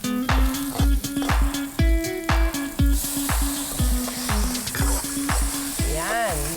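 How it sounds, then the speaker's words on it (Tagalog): Garlic, onion and tomato sautéing in a pan, a steady loud sizzle broken by regular rhythmic scrapes and knocks of the stirring spoon against the pan, close up. "Igigisa muna ang bawang,"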